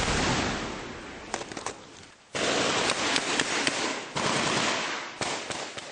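Small arms gunfire in a Taliban ambush in Afghanistan's Korangal Valley, sounding as dense, sustained bursts of shots layered with sharp cracks that cut out briefly and then resume, loud and close.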